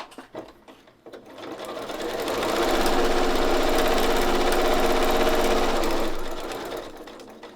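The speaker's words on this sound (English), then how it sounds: "Sew to this point, which is right at that seam underneath, and then make that slight little pivot." Sewing machine stitching fabric for a quilt block, its steady motor hum and rapid needle rattle rising in about a second, holding evenly for several seconds, then slowing to a stop, close and loud with no talk.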